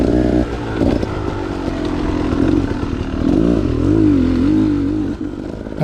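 A dirt motorcycle engine pulls hard and continuously on a rocky trail. Its throttle rises and falls in surging revs, close and loud, with clatter from the bike over the rough ground.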